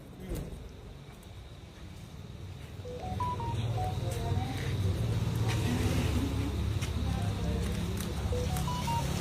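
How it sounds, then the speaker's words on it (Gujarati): A phone is dialed inside a car, giving a short series of electronic keypad beeps over a running engine that gets louder partway through, with people talking nearby. "જયશીલભાઈને ફોન કરું લે પકડ"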